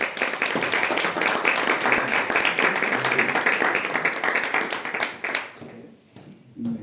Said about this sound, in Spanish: os pido que les deis un fuerte aplauso